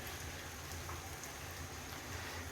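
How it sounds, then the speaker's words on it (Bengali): A steady, soft patter of light rain, continuous and even throughout, with no voices. "বৃষ্টিটা কিছুটা থেমেছে তবে ঝিরঝির করে হচ্ছে এখনও"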